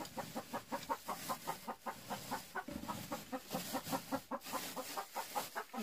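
Farm chickens cluck steadily in a rapid, rhythmic stream during egg collection, close by and fairly quiet, with no talking.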